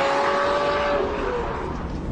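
A Lamborghini Murcielago LP640 driven hard, its engine held in a loud, sustained high-revving roar that eases slightly toward the end, close by and with no talking.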